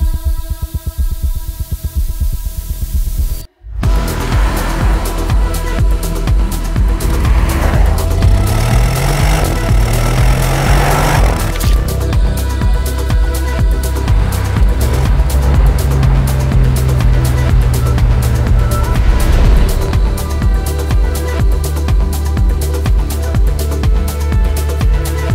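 A 2024 Porsche Cayenne S being driven, with steady engine drone and rising and falling pitch as it accelerates through gears, heard from inside the car after a brief dropout near the start.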